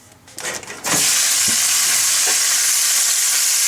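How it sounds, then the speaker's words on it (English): Beef drops into about two tablespoons of hot oil in a pan on high heat. A few handling knocks come first, then a loud, sudden, sustained hissing sizzle with occasional soft clunks. "I'll put about 2 tablespoons of oil in, and we'll start cooking this meat"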